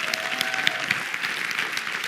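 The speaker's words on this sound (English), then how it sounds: "give him a round of applause there" Audience applause fills the room steadily for about two seconds, a dense wash of claps at moderate distance, with a brief faint tone at the start.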